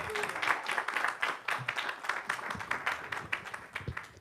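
Congregation clapping in church to welcome the pastor, fairly faint and somewhat distant, with rhythmic, uneven bursts of claps over a few seconds.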